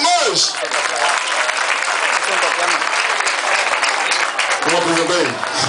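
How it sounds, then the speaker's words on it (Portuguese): An audience at a music event in Angola applauds the sponsors, loud dense clapping from a large crowd sustained throughout, with a voice speaking briefly over it near the start and end. "Eu disse uma grande salva de palmas."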